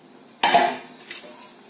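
Lid set on a pot of steaming peas and paneer, a single sharp metallic clank followed by a short ringing tail and a faint second touch, close and alone.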